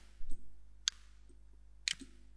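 Two sharp, separate mouse clicks about a second apart while selecting the eraser tool in Photoshop, close and crisp over a low steady hum.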